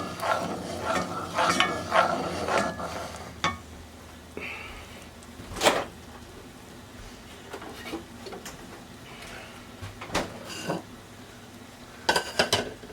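Butter stirred as it melts in a pan on the stove, with scattered clinks and scrapes of a utensil against the pan over a quiet, faint background; some brief sharp knocks stand out.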